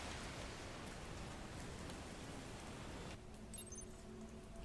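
Steady hiss of rain falling in the Resident Evil Requiem video game, a faint, even wash of drops that thins abruptly near the end, leaving quieter ambience and a small tap.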